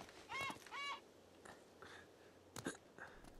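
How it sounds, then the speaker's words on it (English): A bird call from Uncharted: Drake's Fortune sounds as two quick harsh squawking cries close together, then softer scattered game ambience and faint clicks, quiet overall with no one talking. "I mean, I guess it's a bird"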